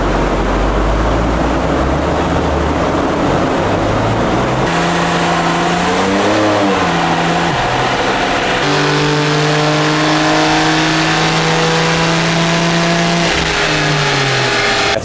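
A BMW G87 M2 in stock form revs hard on a dyno, the engine note climbing steadily through a sustained full-throttle pull, loud and close with no talk over it.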